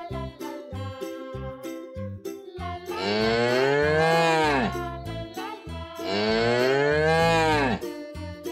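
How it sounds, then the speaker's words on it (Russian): A cartoon farm cow gives two long, loud, drawn-out moos over bouncy children's music, each low call swelling and then falling away. "Корова."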